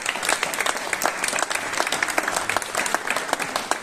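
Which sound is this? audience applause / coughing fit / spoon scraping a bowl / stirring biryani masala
audience applause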